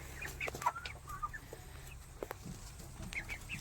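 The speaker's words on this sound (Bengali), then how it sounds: "এই আমার মুরগি এই যে মুরগি দেখো" Chickens cluck softly in scattered short calls inside a small poultry farm, fairly quiet, over a low steady background hum.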